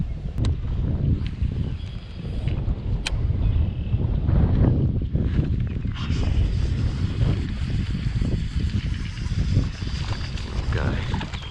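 Strong wind gusts buffet the microphone on a lake during a fishing outing, a constant low roar with water lapping beneath, while someone talks over it.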